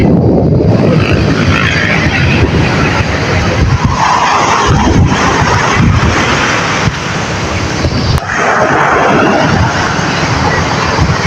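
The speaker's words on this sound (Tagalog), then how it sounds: "Malakas pa rin ang hangin." Strong wind roars steadily against the microphone on a seashore, a loud, continuous buffeting rush with gusts rising and falling throughout.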